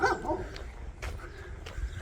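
A dog behind a fence gives a few short, moderately distant barks and yips along a rural walking route, faint against outdoor background noise.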